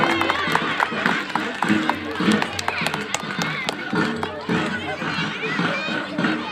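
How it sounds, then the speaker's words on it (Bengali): Audience applause at a school-district annual winter sports meet's opening ceremony, crowd clapping in scattered bursts amid lively chatter and a nearby voice over the noise. "এই উদ্বোধনী অনুষ্ঠানে সকলে হাততালি দিয়ে একটু সমর্থন জানান"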